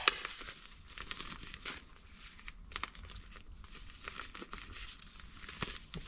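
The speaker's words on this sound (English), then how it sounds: "So now let's try to peel the peel ply off." Peel ply stripped from cured epoxy gives a faint, close crinkling and tearing rustle, with irregular crackly bursts spread over several seconds and no voices.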